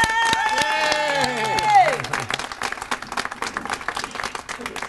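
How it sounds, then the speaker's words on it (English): City employees clap at a food donation event, the applause rising under a voice that cheers in a long falling whoop, then continuing as scattered clapping with faint crowd noise. "I think you guys should really give yourselves a round of applause"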